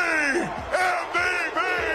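A huge crowd at the Denver Nuggets NBA championship victory parade roars and yells in overlapping waves, loud and close, with swelling shouts.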